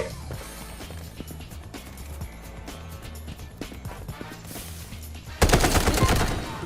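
Gunfire from the Garena Delta Force video game rings out in a dense run of sharp shots over game background sound, ending in a loud, close burst of rapid fire.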